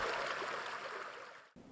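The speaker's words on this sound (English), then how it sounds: "the clear Rocky Mountain water begins to flow" Clear Rocky Mountain snowmelt water flowing in a continuous soft rushing wash, steady and fairly faint, briefly cut off near the end.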